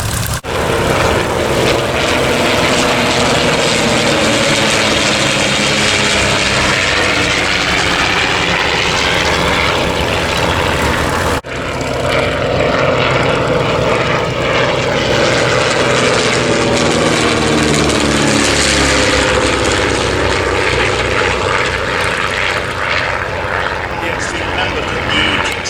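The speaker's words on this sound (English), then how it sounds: "Quite a remarkable feat in this tiny, high-performance aeroplane." A tiny high-performance propeller aeroplane flies at a vintage air show at Shuttleworth, its loud engine roaring continuously with the pitch sweeping as it passes close overhead. A voice talks faintly beneath the engine noise.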